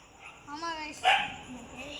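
A dog barks somewhere off at a distance, a few quick yaps rising over steady background hiss and faint voices.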